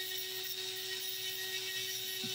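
A sanding machine spins steadily with a constant high whine and hiss while an opal stone is held lightly against it by hand, close and continuous with no talk.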